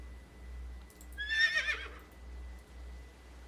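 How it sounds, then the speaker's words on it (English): A horse in the video game Calico whinnies once, a bright, quavering neigh in the middle of a short stretch, with faint hoof sounds and a low hum in the background. "We'll take our horse."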